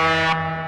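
A car horn blares in a single steady, loud blast with a rich harmonic tone, cutting off abruptly partway through while a lower hum continues.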